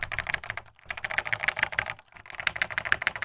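Rapid typing on a Commodore 64-style FPGA computer keyboard, with dense, close clacking keystrokes in quick bursts and one brief pause partway through.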